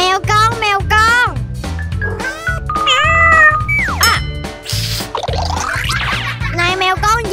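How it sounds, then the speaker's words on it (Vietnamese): Kittens meowing repeatedly in high, sliding cries, mixed with a child's chatter and bright playful sounds in a lively children's scene. "Mèo con. Hai con. Mèo con, mèo con."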